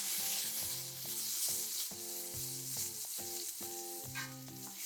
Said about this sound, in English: the first thing we need to do is saute some garlic